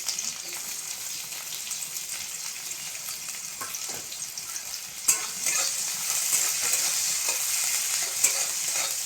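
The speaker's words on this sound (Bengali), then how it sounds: "তেলের ওপর পেঁয়াজ দিয়ে দিব।" Sliced onions sizzle steadily in hot oil in a pan, the start of a light catfish curry with drumsticks. A continuous bright frying hiss is heard throughout, with occasional stirring scrapes and a louder burst of sizzle midway. No one speaks.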